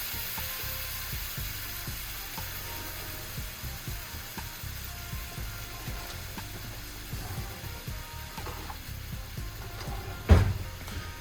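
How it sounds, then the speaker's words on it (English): Raw shrimp hiss and sizzle in a hot pan as they are laid down and spread out, a steady close frying crackle with small scrapes and clicks of a utensil and one brief louder knock near the end. "get these all in the pan, and then we're gonna spread them out"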